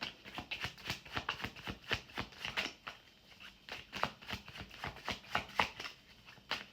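A deck of tarot cards is shuffled up close in quick rhythmic riffles, bursts of crisp flicking and slapping separated by short pauses.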